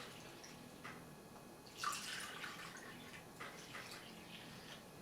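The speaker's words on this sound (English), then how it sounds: "So I'm going to feed in roughly 2 cups of water" Warm water from a measuring cup pours into wholemeal bread dough, making a faint, soft trickle and splash that comes in a few brief bursts over quiet room tone, with no talking.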